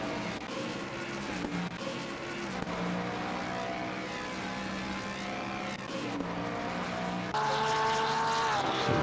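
A Mustang GT3 race car engine in a racing video game at the Nürburgring GP circuit roars steadily at high revs, the pitch shifting as it changes gears, loud and continuous throughout.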